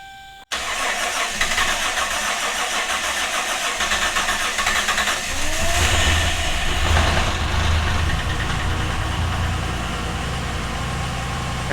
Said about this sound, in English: she cranked up. She's running good